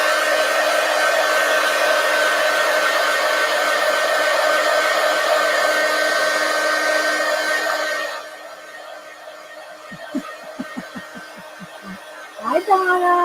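A hair dryer blows steadily and loudly over a paper collage for about eight seconds, then stops, leaving quiet room sound with a few light taps and brief rustles.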